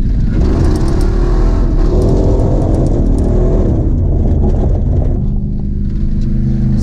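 A car engine roars loud and close, revving hard with a rough rumbling drone during drifting, easing slightly toward the end.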